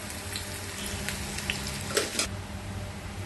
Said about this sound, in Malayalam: അടുപ്പത്ത് 1 പാൻ വെച്ച് ചൂടാക്കി എണ്ണ ഒഴിച്ച് 1/4 ടീസ്പൂൺ കടുകും 1 പച്ചമുളകും മുറിച്ചതും ചേർത്ത് തളിക്കാം.